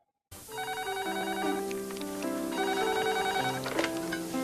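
Telephone ringing in a layered, bright electronic ring tone that starts abruptly after a brief silence and keeps going, fairly close and clear with no talk over it.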